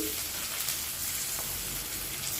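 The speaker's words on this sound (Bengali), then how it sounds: "এখন দিয়ে দিচ্ছি পেঁয়াজ কুচি" Chopped onion added to a hot pan of oil and garlic sizzles loudly and steadily, a dense continuous frying hiss with no breaks.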